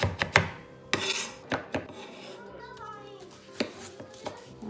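Knife chopping fresh ginger on a board in a home kitchen, irregular sharp taps of the blade in short clusters with pauses, fairly close and quiet.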